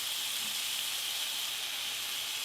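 Ground beef frying in a hot pan for Mongolian ground beef gives a steady, bright sizzle that holds evenly throughout with no talking.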